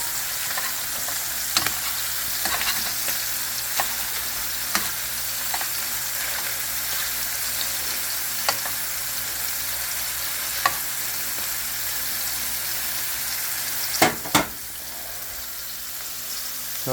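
Scallops sear in a hot pan with a steady, soft sizzle throughout, broken by a few sharp clicks and taps from utensils, the loudest pair near the end; no one speaks.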